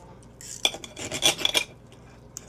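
Knife slicing through cooked picanha steak, several quick close scraping strokes against a board in a short burst, with no talk.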